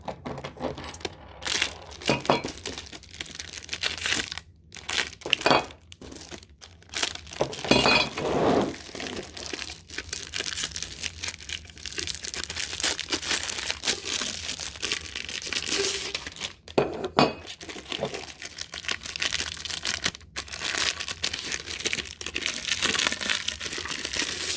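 Cellophane packaging around steampunk curtain rod parts crackles and crinkles almost continuously at close range, with brief sharp crunches and small clinking touches of the parts, no voices.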